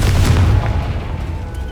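A Confringo blasting curse explodes in Hogwarts Legacy, a loud deep boom with a rumbling tail that fades slowly, heard alone.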